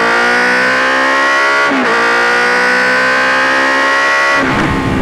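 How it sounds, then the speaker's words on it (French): A Honda CB 650 R four-cylinder motorcycle, a 2020 A2 model, revving loudly and steadily up close, its engine pitch climbing with two brief dips as the throttle is blipped. "Moto qui hurle et qui avance pas forcément"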